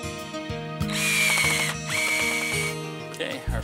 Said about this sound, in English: we'll secure that in place with some more screws going up through the rail here